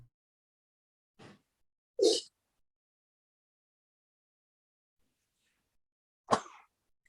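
A single sharp sneeze bursting out in a quiet room, preceded by a faint breath and followed later by another brief nasal burst, otherwise near silence.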